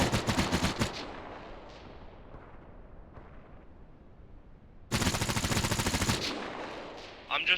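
Rifles fire in a tactical shooter game, loud rapid bursts of gunfire at the start and again near the end, with faint distant echoes and quieter background noise between.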